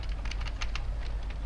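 Typing on a computer keyboard, a steady patter of light clicks over a low hum, fairly close and continuous for the short stretch, with no talk.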